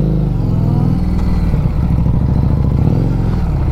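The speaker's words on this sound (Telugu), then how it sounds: "the bike is fucking loud boys" A Harley Davidson Street 750 motorcycle engine runs loud and close, with a deep, steady, throbbing rumble that holds the whole time and carries a slight rise in revs.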